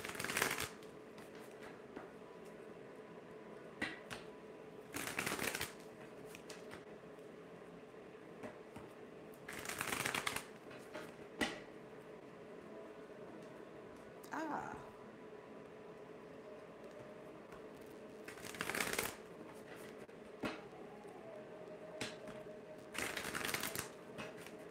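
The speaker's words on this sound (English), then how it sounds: "Just getting the cards shuffled here" Tarot cards shuffled in repeated bursts of riffling at close range, each burst a few seconds long and separated by quiet stretches with a faint steady hum underneath.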